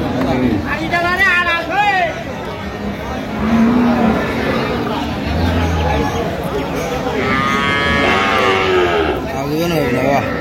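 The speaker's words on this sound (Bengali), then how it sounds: "গাভী বাছুর আমরা দেখছিলাম এখানে" Cows and calves moo loudly at the Ambari haat cattle market, several drawn-out calls rising over constant crowd chatter and people talking nearby.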